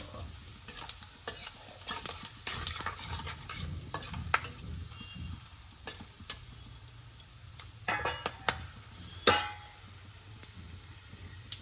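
Bay leaf, dried red chilies and whole garam masala fry in hot oil for chicken biryani, a low steady sizzle under intermittent scraping and clinking of a spoon against the pan, close-up with no talk.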